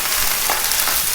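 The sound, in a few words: steak sizzling and crackling in a frying pan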